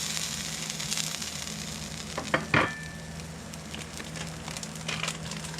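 Burger patties sizzle steadily in a hot pan right after being flipped, a continuous close frying hiss with a couple of brief scraping clatters from the spatula partway through.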